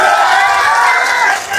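A large political rally crowd in Kishanganj roars with cheering and clapping, a loud, dense, continuous wall of voices that eases off slightly at the end.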